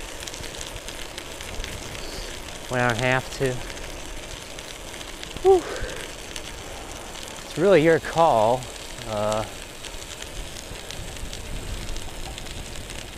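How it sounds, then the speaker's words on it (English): Studded bicycle tires roll over a snowy road with a continuous crackling hiss throughout, while someone speaks intermittently over it and exhales once. "I don't like to ride with studded tires as I am today. That's what that noise is"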